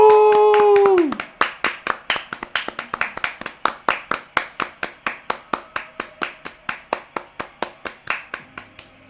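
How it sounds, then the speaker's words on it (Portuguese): Applause breaks out at the end of a live performance of a ballad, right after a held sung note. It settles into steady, rhythmic clapping that keeps a regular beat, loud and close. "As pessoas levantaram para aplaudir, porque não tem como não ficar em pé e aplaudir."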